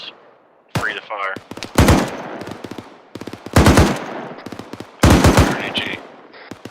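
Machine gun fire in the military video game ArmA 3, heard in several loud, rapid bursts separated by short pauses, with some radio-style voice chatter between the volleys.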